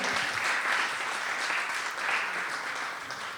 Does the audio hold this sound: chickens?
no